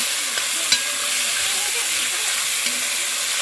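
Dumplings fry in a pan at an outdoor family cook, giving a steady close sizzle with a couple of sharp ticks and crackles throughout.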